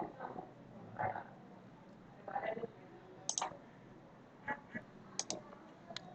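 Several light computer mouse clicks, spaced irregularly, while stepping through a software installer on a Windows computer, with faint room noise between them.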